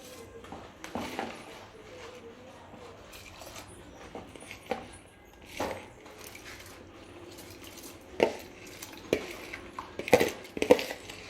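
Rice, urad dal, cumin and fenugreek tipped into a pot of boiling water, heard as scattered clinks and patters against the metal pot with a soft bubbling background, with a few sharper knocks near the end.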